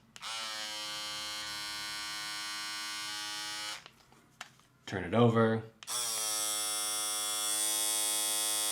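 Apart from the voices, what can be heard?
Philips Bodygroom 7000 electric body groomer running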